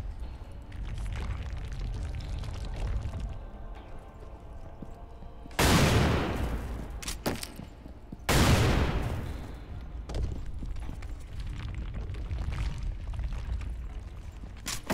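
Bombs going off in the video game Lara Croft and the Guardian of Light, two loud blasts a few seconds apart standing out over a steady background of game noise.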